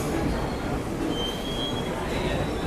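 A train rolls past at close range, producing a loud, steady broadband rumble with a faint high wheel squeal running throughout, and no voices.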